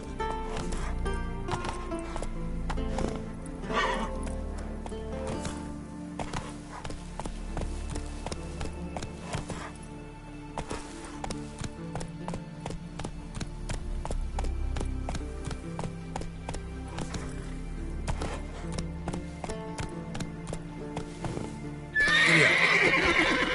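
Roach, a horse in the video game The Witcher 3, gallops with rapid, steady hoofbeats over a music score, then gives a loud whinny near the end.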